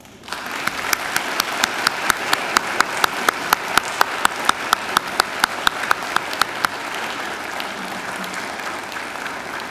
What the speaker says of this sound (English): give them a hearty round of applause